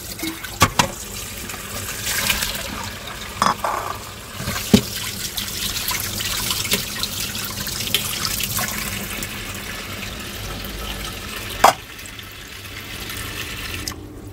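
Hot water poured off chicken liver into a sink while preparing afritada, a steady close splashing and trickling stream with a few sharper clunks, no talk.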